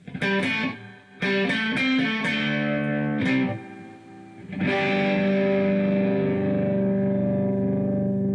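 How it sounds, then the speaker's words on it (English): An electric guitar through a Boss FDR-1 Fender '65 Deluxe Reverb pedal rings out with heavy processed tone, washed in reverb and wavering vibrato, plucked notes and a long sustained chord swelling at the end. "Leave a little bit of reverb in, and I'll bring the vibrato in."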